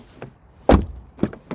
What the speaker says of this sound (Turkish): Şöyle kapı sesine bir bakayım.